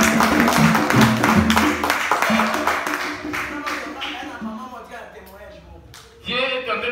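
A church congregation claps and applauds together during a Sunday service, the dense, ragged clapping loud and close at first, then thinning and fading before a brief burst of voices returns at the end.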